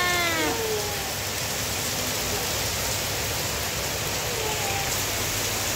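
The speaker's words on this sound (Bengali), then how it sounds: "একদম মুষলধারে বৃষ্টি শুরু হয়েছে।" A torrential downpour outside a wedding house: dense, even roaring rain pours steadily without a break, with a few faint high squeaks early on.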